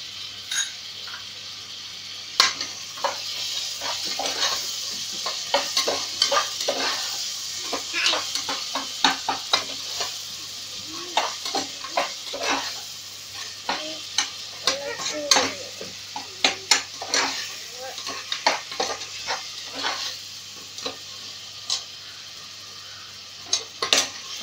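Biryani masala with tomato sizzles in a pan for meal maker biryani while a spoon keeps stirring it, giving a continuous fry hiss broken by frequent scrapes and clinks of metal against the pan.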